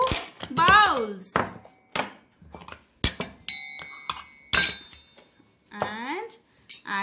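Several bowls struck one after another ring out in clear, bright clinks with lingering tones, spaced irregularly and close by, with a voice talking in between.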